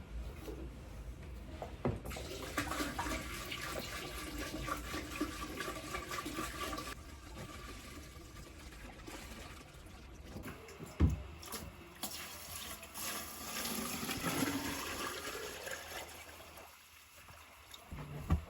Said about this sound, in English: I think we're ready to fill the water back up.